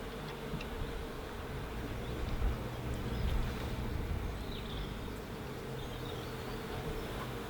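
A honey bee swarm of about 20,000 bees is hived, giving a faint, steady, low buzzing hum that carries on without a break and with no voices.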